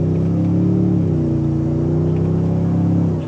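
Toyota Tundra TRD Pro truck in sport mode, second gear, accelerating hard from inside the cab: a loud, steady engine hum climbing in pitch with a brief shift dip, then easing off at the end.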